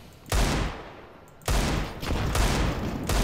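Rapid bursts of automatic gunfire from the video game CS:GO, three dense volleys in quick succession, loud and close, with no talking over them.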